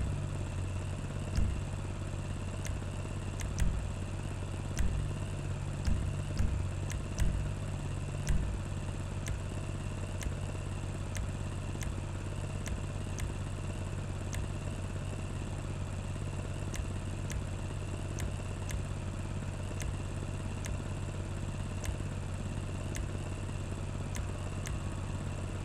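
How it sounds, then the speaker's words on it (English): A Manchez Scout motorcycle engine idles in GTA 5 with a steady, low mechanical hum. Soft periodic clicks and a few brief revs or clunks sit on top early on, with no voices. "Engine's how you want it."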